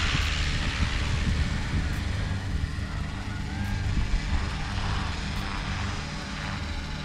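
A Trex 500x RC helicopter flies backwards, its rotor and motor giving a steady, droning whine with a low buzzing pulse, moderately distant and continuous, with faint wind noise.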